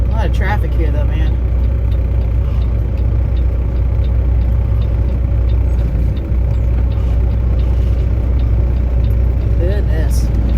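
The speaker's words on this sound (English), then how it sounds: "A lot of traffic here though, man." Steady roar of heavy road traffic around a truck, with engine rumble and tyre noise filling the background and a brief airy hiss early on, continuous and loud throughout.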